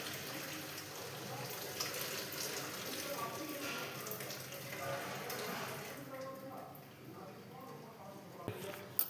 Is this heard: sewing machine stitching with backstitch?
no